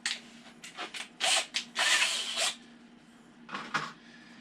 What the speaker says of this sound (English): countersink, countersink, nice and easy, nice and quick.